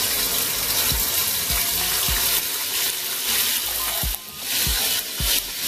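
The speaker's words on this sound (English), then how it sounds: "So now that the oil is hot enough, add the meat into the pan that you put the oil in." Beef fries in hot oil in a pan for Ghanaian jollof rice, a steady, loud hiss of sizzling with a few soft knocks as the meat is moved, close and continuous.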